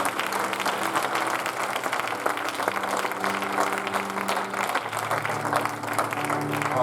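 A church congregation applauds steadily and loudly throughout, a dense wash of clapping with some cheering, while voices carry faintly underneath.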